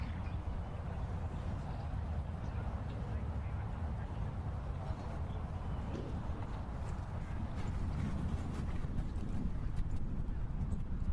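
Polo ponies' hooves thud and clatter across the field at an Argentine open polo match, a steady trampling under constant wind noise and broadcast commentary.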